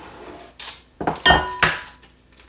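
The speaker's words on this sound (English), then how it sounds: "Crack those eggs" Eggs cracked against a bowl for peanut butter cheesecake batter, four or five sharp close taps and clinks spaced about half a second apart, alone in a quiet kitchen.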